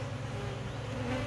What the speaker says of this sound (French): Je suis en plein milieu des abeilles